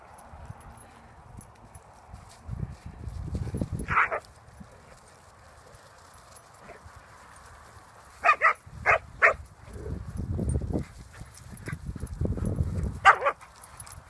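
Several big-breed dogs bark in short bursts on a morning walk outdoors, some barks sharp and close, mixed with light footsteps and handling noise across a quiet stretch.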